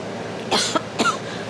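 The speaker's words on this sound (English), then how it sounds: "have a little bit of a cough" Two or three quick, harsh coughs close by, with a brief pause before the last one.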